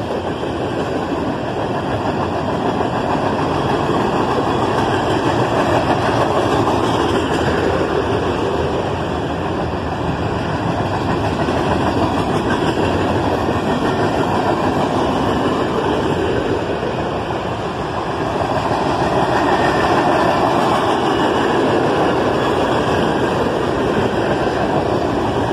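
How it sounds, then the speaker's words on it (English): A loaded coal train rolls past with an ET44AH locomotive working as a distributed power unit, a continuous heavy rumble of engine and wagons, loud and steady throughout with slight swells. "There goes that DPU in ET-44AH."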